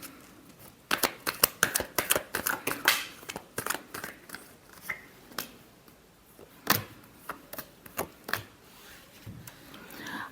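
A deck of tarot cards is shuffled by hand, with quick riffles and papery flicks coming in uneven bursts, close and fairly crisp, with no talk over it.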